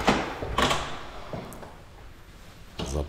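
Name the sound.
entrance door opened with key card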